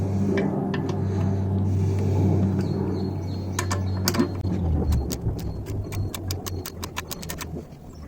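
Bolts are worked loose from the bottom end of a 1980 Yamaha XJ650 engine: a low mechanical rumble, then a run of close, sharp ratchet clicks at an uneven pace.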